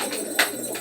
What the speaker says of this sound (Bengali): এটা হচ্ছে আমার বাড়ির বিস্কুট কালারের মৌসুরি পায়রা